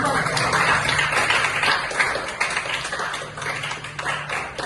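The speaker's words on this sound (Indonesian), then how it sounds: "Tepuk tangan." Hands clapping in applause at a school gathering, dense and close for the full length, with voices audible under the clapping.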